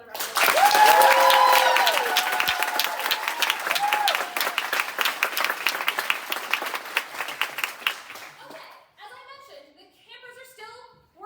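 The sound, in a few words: audience applause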